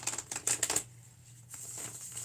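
A deck of cards being shuffled close up, a quick burst of riffling flutters followed by a lighter second riffle, quiet room, no talk.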